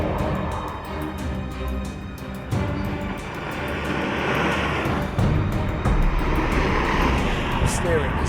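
Engine and road roar from a 2017 Alfa Romeo Giulia with a 2-litre engine accelerating, a steady broadband drone that swells slightly as it goes, with someone talking over it throughout.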